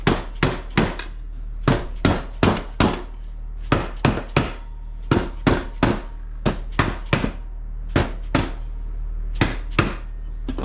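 Steady hammering on the crankshaft of a Honda AF16 scooter engine: about two dozen sharp metallic blows, close and loud, coming in quick bursts of two to four with short pauses, with no talk.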